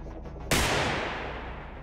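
A single sharp gunshot is fired at a drone in the shooter game Receiver 2. The loud report stands alone and rings out in a long decaying tail.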